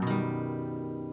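A single downward guitar strum across the top three strings rings out, its chord sustaining and slowly fading.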